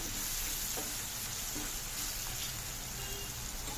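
Chicken frying in a pan with chili powder stirred in, a steady dense sizzle and crackle with faint stirring taps, close and continuous with no talk.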